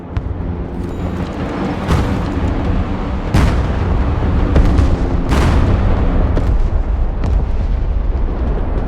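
Loud battlefield combat in the real-time strategy game Broken Arrow brings heavy booms, artillery blasts and bursts of gunfire over a constant rumbling din, with several sharp explosions standing out and no voices.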